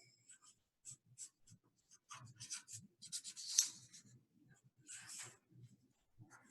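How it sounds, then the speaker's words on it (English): Pen writing on paper during a letter-folding craft session, soft scratchy strokes coming in short bursts, close and quiet, with talk and a light rub or breath mixed in. "Here, I'll write it down."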